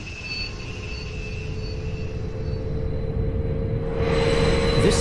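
An S-Bahn Zentralschweiz commuter train on the Luzern–Sursee line in Train Sim World 2 pulls away, with a steady low rumble of wheels and motors that swells gradually louder, plus thin squealing tones above.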